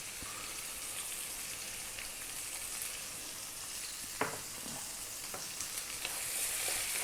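Peanuts fry in a pan for fried rice, sizzling in a steady crackling hiss, with a few sharper clicks and scrapes partway through as they are stirred.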